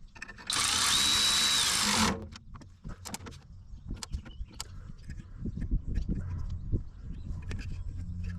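A power drill whirs loudly for about a second and a half, then stops, followed by scattered clicks, handling noises and low talking.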